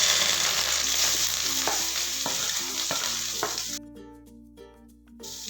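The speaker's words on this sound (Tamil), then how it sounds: "கொஞ்சம் வதங்கட்டும்." Onions, curry leaves and green chillies sizzle and fry in a pan, with a continuous hiss and a few soft stirring scrapes, and a steady tone joins in toward the end.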